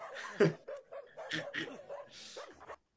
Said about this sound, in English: Just this dog, not the biggest, just walks in and just completely controls the situation.